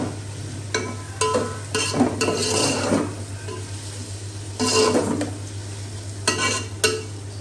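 Flour fries in a pan and is stirred in bursts. Each scrape of the spoon brings a louder rustling sizzle over a low hum, with quieter gaps between the strokes and no talk.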